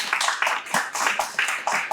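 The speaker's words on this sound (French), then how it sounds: "Oui, vous pouvez applaudir cette présentation" Steady, rhythmic clapping fills the room as a Senegalese literary gathering applauds a presentation, a dense run of hand claps with regular pulses and no voices on top.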